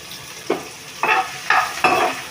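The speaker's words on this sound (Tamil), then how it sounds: "இப்போ இதில் நம்ம ஆனியன் சேர்த்துடலாம்." Chopped onion hits hot oil in a pan for bhindi masala, followed by several short bursts of sizzling and stirring, each rising sharply then fading, fairly close and moderately loud.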